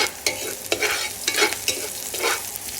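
Garlic and onion sautéing in a pan for igado, with a steady hiss of frying and several scraping stirs of a utensil against the pan at irregular intervals, close and moderately loud.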